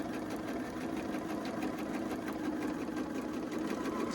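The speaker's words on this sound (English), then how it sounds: "I'm going to start sewing" Home sewing machine stitching quilt fabric for a pumpkin quilt, a steady fast mechanical whir with rapid needle rhythm running continuously and close, without talk.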